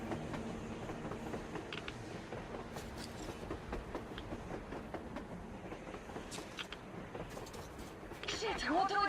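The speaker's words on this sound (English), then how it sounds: "A train! A damn train on the surface!" A surface train in Metro Exodus rolls past with a rhythmic clickety-clack and steady rumble, while voices speak over it and birdlike chirps rise near the end.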